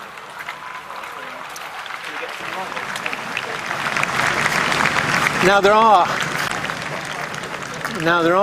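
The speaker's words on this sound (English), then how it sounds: "And there you can hear, every now and again, breaking out just spontaneous applause." Crowd outside Buckingham Palace after the death of Queen Elizabeth II, with spontaneous applause rising gradually from a murmuring throng, distant and diffuse, with a reporter speaking and a brief wavering tone near the end.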